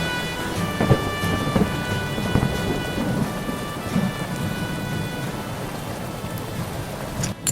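A thunderstorm with steady heavy rain hissing down and low rolls of thunder rumbling through, continuous and enveloping with no voices.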